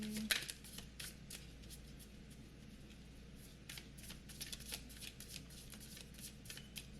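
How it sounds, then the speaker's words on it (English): Tarot cards being shuffled by hand in a quiet room during a pick-a-card reading, soft repeated riffling and sliding at close range, with low room hum underneath and no talking. "we're gonna go with this 3 more shuffles."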